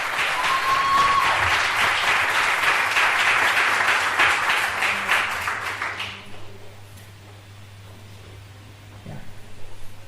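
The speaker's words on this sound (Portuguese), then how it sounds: "recibir a la pastora Fabiola con un fuerte aplauso." A church congregation applauds loudly and steadily for about six seconds, then the clapping fades into quiet room noise with a faint low hum.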